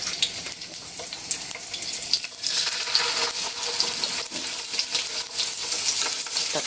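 Tofu fries in a pan with a steady, close hiss and sizzle, broken by faint pops and clinks, and no talk over it.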